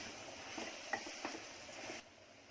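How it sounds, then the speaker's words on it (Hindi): Chili powder, including Byadgi and Kashmiri red chili, and turmeric stirred and fried in a pan, giving a steady soft sizzle with a few light scraping strokes before the frying noise drops away near the end. "मैंने मिर्ची और हल्दी एक साथ करने तक भून ली थोड़ा"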